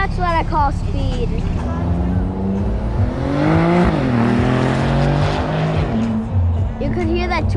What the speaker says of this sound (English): You could hear that turbo.